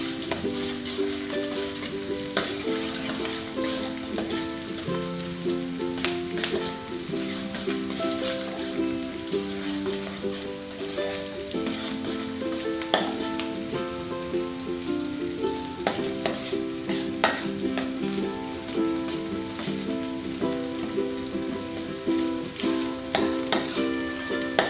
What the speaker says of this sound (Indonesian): Aduk dulu bawang merahnya biar wangi.